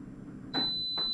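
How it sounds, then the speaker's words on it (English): A bread oven's timer buzzer sounds a few sharp electronic beeps, loud and close in a quiet kitchen, with a steady high tone lingering between them. "our buzzer just went off"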